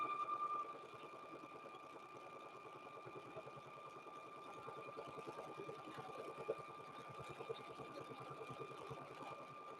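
A sewing machine stitches across a purple quilted handbag, running with a steady fast mechanical whir and rapid needle rhythm at close range, with no talk over it.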